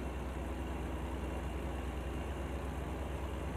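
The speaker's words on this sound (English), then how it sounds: "That is our Jake brake." A truck's Jake brake in American Truck Simulator gives a steady, low, rumbling engine drone that holds evenly throughout without pauses or talking.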